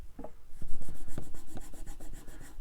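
Fine-grit abrasive paper, 1000 then 3000 grit, polishing a part of a Gibson Explorer guitar, heard as a close, steady run of short rhythmic rubbing strokes with a slight rasp, alone without talk.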